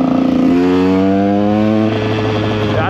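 A KTM EXC 125 two-stroke dirt bike engine runs loud and close, holding a buzzing, steady rev with a slight dip in pitch partway through, no voices.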